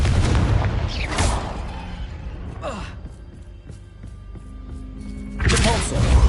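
A Confringo fire blast spell cast in Hogwarts Legacy gives a booming whoosh and crash at the start, a lighter burst in the middle, and another loud blast at the end, with game ambience lingering between.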